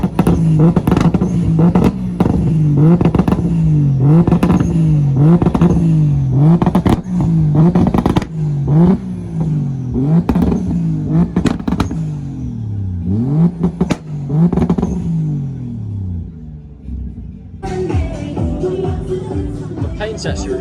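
A car engine revs hard at a car show, a series of loud, rapid rising and falling revs in quick succession, close by, ending with a lower idle and background crowd chatter.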